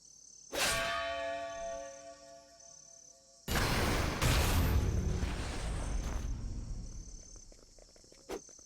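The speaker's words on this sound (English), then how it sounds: "The bell heralds your defeat." In the video game Octopath Traveler II, a bell tolls twice, each a loud metallic strike with a long ringing decay, the second heavier and noisier, over a faint, steady high tone.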